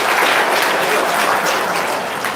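A crowd at an Indonesian religious talk breaks into applause, a dense, loud clapping that holds steady throughout and thins slightly toward the end.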